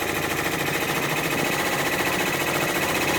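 An embroidery machine runs a running stitch on freestanding lace, its needle buzzing in a steady, fast, even rhythm, loud and close with no voices.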